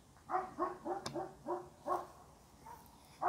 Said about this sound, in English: Those dogs, can you hear those dogs? They drive me crazy all day, every day.